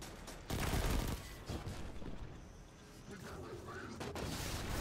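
Grenade blasts and rapid gunfire from a Destiny 2 firefight on Mars, a dense run of booms and shots that swells sharply near the start and keeps rumbling on under occasional faint voice.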